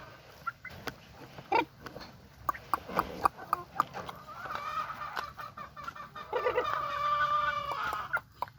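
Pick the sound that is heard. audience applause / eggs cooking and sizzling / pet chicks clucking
pet chicks clucking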